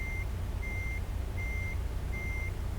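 Beeps from a truck's reversing alarm in American Truck Simulator ring out four times at an even pace over a low, steady engine rumble.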